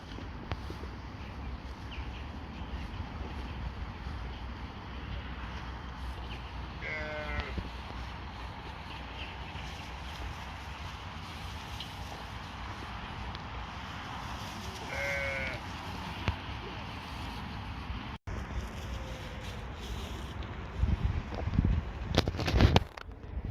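Goats bleat a few times, sounding as short wavering calls at moderate distance over a steady outdoor background hum at a market. There are a couple of separate calls, and handling noise and rustling follow near the end.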